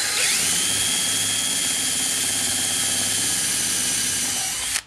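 A power drill whines steadily at high speed for several seconds, drilling through metal siding, loud and close, then cuts off abruptly at the end.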